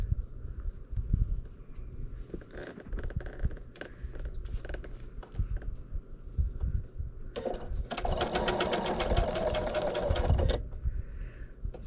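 A home sewing machine stitches a quilt block, first in short stop-start bursts and then in a steady, fast, rattling run of needle strokes near the end, close and clear with no voices.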